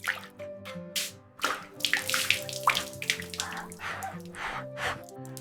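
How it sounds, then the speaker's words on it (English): Water splashes and sloshes during washing at a sink or basin, a close, irregular run of bursts and drips with running water under soft background music, with no talking. "Splash and wash."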